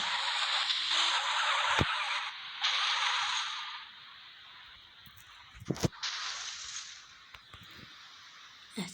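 Car skidding and crashing in the mobile video game Car Parking: long tire-skid whooshes with sharp impact thuds around the middle, loud and alone without speech.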